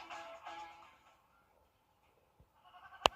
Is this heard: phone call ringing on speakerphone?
no